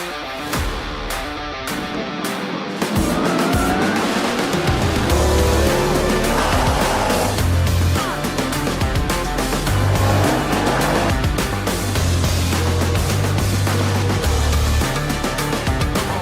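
Rallycross race cars at Lydden Hill in the British Rallycross Championship, engines roaring loud and continuous at close range with revving and tire squeal as the cars race past.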